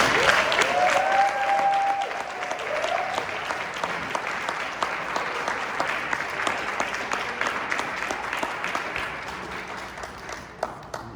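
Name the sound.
round of applause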